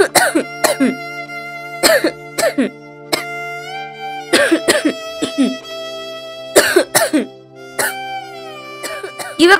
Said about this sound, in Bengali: কি ব্যাপার, অত কাশছো কেন?